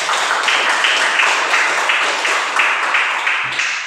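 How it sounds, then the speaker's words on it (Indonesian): A crowd claps steadily and loudly, a dense wash of many hands with no voices over it. "Tepuk tangan untuk kita semua."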